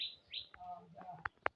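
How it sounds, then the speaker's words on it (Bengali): A common myna calls in a rural village setting, giving a few short, bright chirps and whistled notes followed by two sharp, louder calls near the end, close by with no talk. "শালিক পাখি"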